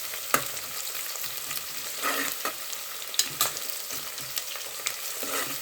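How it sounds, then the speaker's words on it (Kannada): Onions and green chillies frying for vegetable pulao, stirred until brown, crackle with a bright sizzle while a spoon scrapes and taps the pan in irregular strokes, close and clear with no speech. "ಹೀಗೆ ಇದನ್ನು ಚೆನ್ನಾಗಿ ನಾವು ಈ ಥರ ಮಿಕ್ಸ್ ಮಾಡ್ಕೊಳ್ತಾ ಇದನ್ನು ಬ್ರೌನ್ ಕಲರ್ ಬರೋವರೆಗೂ ಹುರ್ಕೋಬೇಕು"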